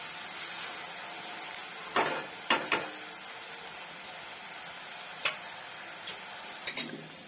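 Sliced onion with a little salt is stirred and sautéed in a pan, with a soft background sizzle and a few sharp spatula clinks against the metal that come in scattered pairs. No one speaks over it.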